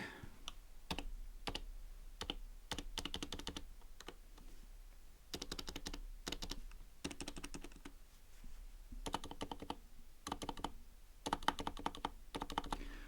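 Typing on a Happy Hacking Keyboard PD-KB800W, bursts of close, crisp keystrokes in quick clusters separated by brief pauses, with no voices.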